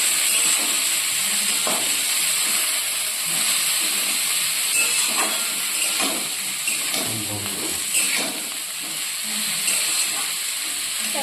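Chopped cabbage and pumpkin fry in a pan for khichuri, giving a steady bright hiss and sizzle throughout with occasional soft clicks and stirring knocks, close up and continuous, with no talking.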